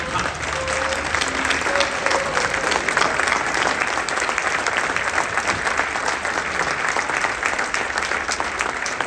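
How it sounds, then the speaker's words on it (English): A gala crowd at a chamber of commerce holiday awards night gives loud, sustained applause to honor the Citizen of the Year, dense clapping throughout with murmured voices beneath. "Please stand and join me with a round of applause to congratulate this year's Citizen of the Year, Senator Steve Huffman"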